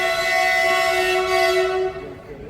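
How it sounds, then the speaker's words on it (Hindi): A loud, sustained local train horn blares steadily for about two seconds, then cuts off, leaving quieter rumbling of the passing train. "अभी लोकल ट्रेन है"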